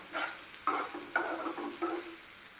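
Paneer pieces frying lightly in a pan, with four distinct scraping stirs about half a second apart over a quiet steady sizzle.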